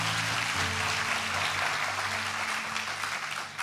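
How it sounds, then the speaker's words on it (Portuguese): A church congregation applauds during a worship service, a broad wash of clapping that stays steady and full, with a low sustained musical tone humming beneath it. "Será que você pode aplaudir a Jesus pela vida dos nossos pastores?"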